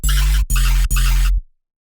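Dubstep synth producing weird space-laser tones: three loud sustained buzzing bursts in quick succession, then abrupt silence, no voices.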